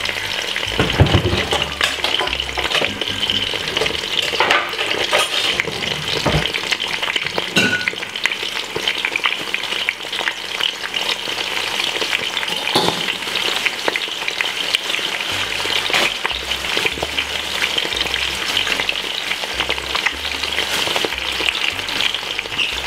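Eggs and bacon fry in a pan on a stove for a Saturday breakfast, a dense, continuous sizzle and crackle at close range with occasional stirring and scraping sounds.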